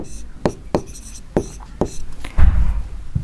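Pen or chalk writing out a maths solution with diagrams, several short sharp strokes and taps in a quiet room, with a brief rustle and low thump near the end.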